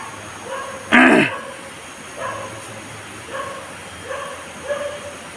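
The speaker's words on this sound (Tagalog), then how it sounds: "kung baka nagtataka kayo kung bakit mayroong aso, baka mga alaga yan ng mga bandido" A dog barking outdoors, one loud near bark followed by several softer yips and barks spaced irregularly over a steady background hiss.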